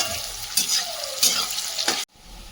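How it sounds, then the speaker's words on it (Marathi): Onions fry in very hot oil for a spicy chicken curry, a steady close sizzle broken by three spatula stirs about every 0.6 seconds, then cutting off abruptly into near silence. "कांदा व्यवस्थित परतून घ्यायचा आहे"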